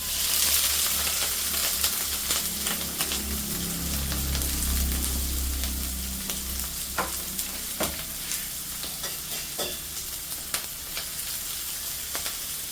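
Chopped onion and green chilli hit hot oil in a pan, giving a loud, steady close-up sizzle that softens slightly as stirring clicks and scrapes ring out intermittently, with no talking.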